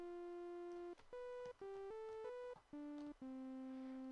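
A synthesizer plays a short melodic phrase of sustained, buzzy, harmonically rich notes from the tripow 2 oscillator waveform, at a fairly high pitch, with brief gaps between some notes, clean and unaccompanied.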